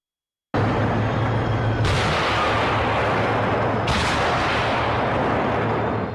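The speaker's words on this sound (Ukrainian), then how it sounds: "Два влучних постріли і обидва у цілі." Two powerful tank cannon blasts ring out a couple of seconds apart, each followed by a long rumbling roar that fills the scene.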